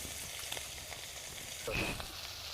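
Onion pieces, cut into quarters, sizzling in hot oil, a steady close hiss of frying that swells briefly toward the end as oil spatters.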